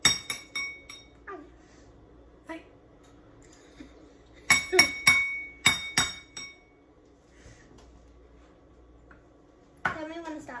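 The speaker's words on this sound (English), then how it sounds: "Maybe don't hit the glass so hard. We don't want to break the bowl." A utensil knocks against a glass mixing bowl during no-bake Christmas cookie preparation, giving sharp clinks alone and in quick clusters of three or four, with soft sounds between.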